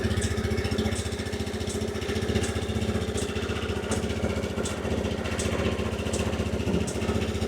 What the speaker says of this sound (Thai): ส่วนเสียงท่อรถนะครับ อันนี้จะเป็นเสียงเดิม